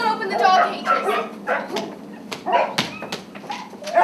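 Dogs freed from cages bark, yip and whimper close by in an excited, uneven series of bursts, with voices mixed among the animal sounds.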